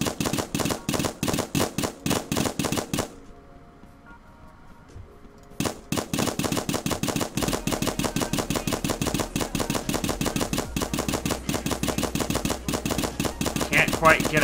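Paintball gun shots in a Roblox paintball game fire in rapid, evenly spaced volleys, break off for a couple of seconds, then resume as a long, steady, close stream of shots.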